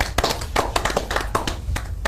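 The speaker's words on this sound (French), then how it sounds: "Je vous applaudis" A crowd applauds in a studio setting, with irregular sharp hand claps bunched close together, fairly loud and without talk.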